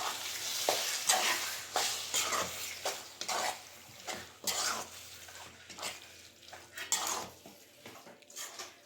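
A spoon scrapes and clinks against a pan while chicken liver gravy is stirred, giving irregular metallic strokes over a soft sizzle, close and moderately loud with no talking.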